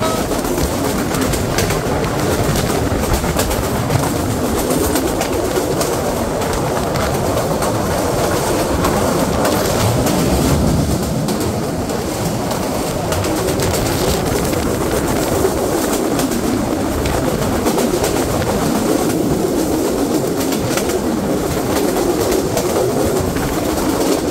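The Kapotaksha Express rumbles steadily along the rails on a journey to Pakshi, a loud, continuous roll with rhythmic clatter and no talking.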